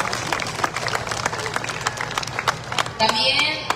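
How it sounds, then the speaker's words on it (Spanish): A crowd at a recognition ceremony applauds in a steady, close burst of many handclaps, with faint voices mixed underneath. "Damos un fuerte aplauso."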